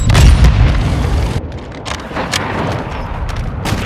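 Semtex grenade blast in Call of Duty: Modern Warfare II, a loud low boom that opens the clip and rolls into sustained rumbling, with scattered crackling bursts afterward.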